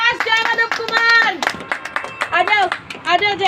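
Children clap for a prize winner at a Ganesh Puja celebration, scattered hand claps heard beneath a loud adult voice speaking over them.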